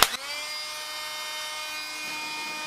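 A Ryobi 18V cordless dust blower kicks on with a brief click and surge when the battery goes on, then holds a steady, high-pitched electric whine, loud and unbroken.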